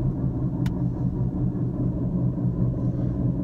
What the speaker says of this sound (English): Whoa, truck!